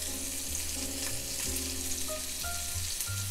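Lamb loin chops fry in a pan with a steady, fairly quiet sizzle that runs throughout, partly covered by a tonal melody of held notes.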